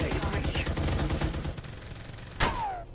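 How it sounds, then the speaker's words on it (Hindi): Gunfire in the battle royale game Farlight 84: a steady din of rapid shots fills the first half, eases off, then one sharp loud burst lands near the end, with a falling whine after it. "कौन फायर कर रहा है"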